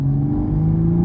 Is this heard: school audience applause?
no